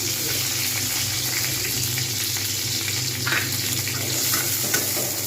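Onion, cumin and green chilli fry in a brass pan, giving a steady, even sizzle over low heat that runs on without a break and with no talk over it.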